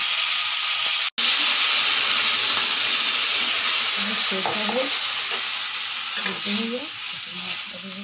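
A steady broadband hiss of a vegetable curry (shukto) bubbling in a pan, with faint voices speaking briefly in the background toward the end.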